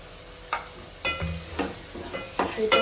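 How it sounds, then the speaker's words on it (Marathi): Ground masala paste goes into a pan with already-cooked mutton and is sautéed, giving a soft sizzle under several sharp scraping stirs of a spoon, close and moderately loud. "आता ह्याच्यामध्ये पटकन मी हे जे आपण वाटण केलेलं आहे ते सुद्धा टाकून घेते"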